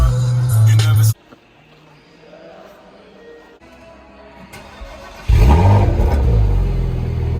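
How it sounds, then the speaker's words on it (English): A Porsche Macan GTS engine roars loudly at close range, drops to a quiet idle-like lull, then revs hard again with a deep, rising growl. "you saw that Macan sounded awesome"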